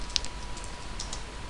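Typing on a computer keyboard, a few quick, sparse key clicks close by in a quiet room, with no talking.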